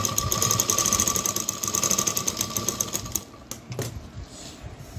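A sewing machine stitches fabric close by with a fast, even mechanical rattle for about three seconds, then stops, leaving a few quieter clicks and handling noises.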